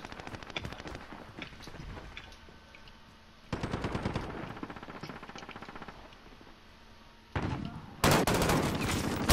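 Rapid machine gun strafing bursts from Call of Duty Modern Warfare multiplayer on PS4, loud dense volleys that stop and restart several times, with a harsher close burst near the end.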